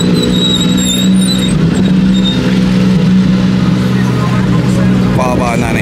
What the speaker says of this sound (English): McLaren, Porsche coming through